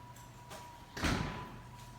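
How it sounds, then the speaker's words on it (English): A door is pulled open indoors with a single quick scraping thud, moderately loud over a faint steady room hum. "I got the door open."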